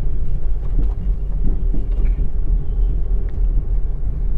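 A car drives slowly through city office-hour traffic while turning left, giving a loud, steady low engine and road rumble from inside the cabin with no talk.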